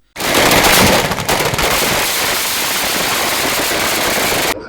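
Firecrackers burst at Tirur central junction as party workers celebrate an election victory: a loud, dense, continuous crackling barrage of rapid pops that fills the whole stretch before stopping abruptly.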